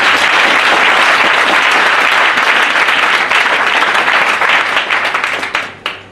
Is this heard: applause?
yes